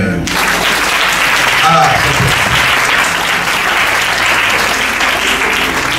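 A church congregation at a Sunday service bursts into loud, sustained applause, a dense steady clapping that fills the room, with a brief voice calling out at the start.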